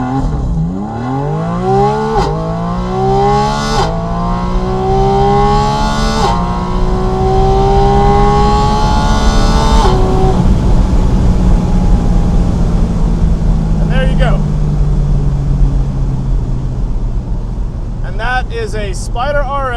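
A Porsche Spyder RS does a launch-control start, its engine note climbing in loud successive gear pulls before settling into a steady roar, with a brief voice near the end.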